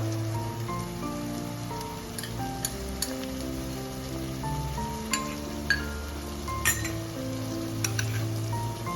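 Kolhapuri mundi rassa masala roasting in a pan, a steady close sizzle with occasional sharp pops and crackles over a low continuous hum.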